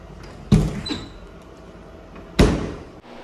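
Two sharp thuds of a door being shut inside a house, a strong bang early on and another louder one later, each with a short decaying rattle in a quiet room.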